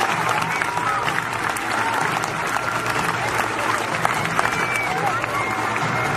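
An audience gives loud, continuous applause for teachers being honoured at a school award ceremony, a thick, unbroken roar of clapping with crowd voices mixed in.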